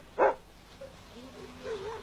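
A young kennel dog, about a year old, lets out one sharp bark at the start, followed by faint, low whimpers.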